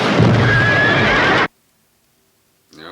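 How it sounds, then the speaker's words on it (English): A loud, harsh horse neigh sound effect from a Western film scene in Heaven's Gate, lasting about a second and a half before cutting to silence, then a voice begins. "they actually put in a horse sound effect to match along with the horse"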